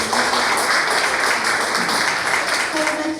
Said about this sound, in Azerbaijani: Gəlin musiqiçilərimizi alqışlarla qarşılayaq.